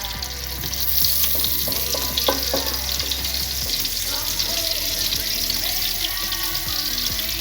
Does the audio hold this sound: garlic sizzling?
yes